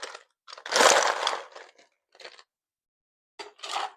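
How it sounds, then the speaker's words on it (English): Ice being added to a cocktail shaker tin for a spicy mango margarita, heard as close crunchy clattering bursts of cubes dropping onto metal, with brief gaps between scoops. "we're going to add ice to our shaker tin."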